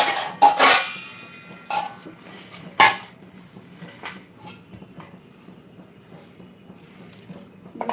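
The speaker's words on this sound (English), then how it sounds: "Just wash them nicely." Parwal (pointed gourd) gets washed in a kitchen with clattering, clinking knocks against a metal bowl or dish, a few sharp hits among softer water and handling sounds, close up.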